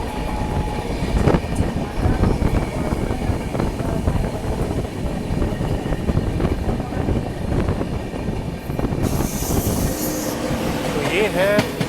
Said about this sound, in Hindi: सामने से एक और ट्रेन आ रही है।